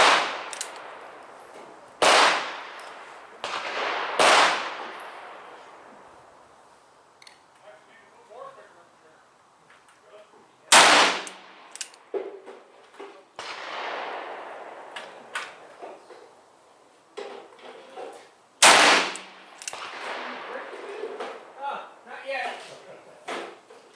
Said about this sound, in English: we're going to try the 215 grain, and I'm going to shoot them off the bench